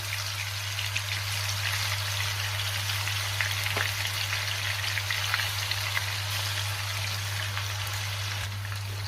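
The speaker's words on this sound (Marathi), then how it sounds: "आता एका साईडनी साधारण 2 मिनिटं मी फिश फ्राय करून घेणार आहे" Fish fries in hot oil in a pan over a high-to-medium gas flame, giving a steady, dense sizzle with crackling spatters throughout, close and continuous with no talking.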